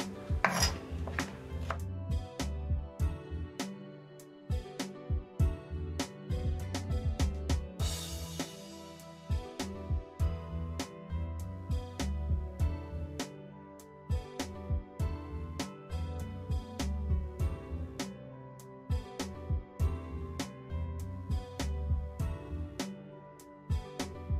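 A kitchen knife slices raw potatoes into strips for French fries, giving a long run of crisp, regular taps on a cutting board, close and fairly quiet, under faint background music.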